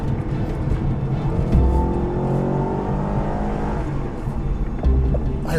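A Chevrolet car with a massive 6.2-liter engine accelerates hard, its deep engine note rising and revving loudly and steadily, heard from inside with no talking.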